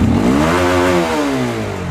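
A Honda CB150R motorcycle engine screams up toward its 11,000 rpm limiter, a loud, close, rising whine that wavers and bounces near the top.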